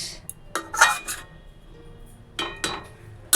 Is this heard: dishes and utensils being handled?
yes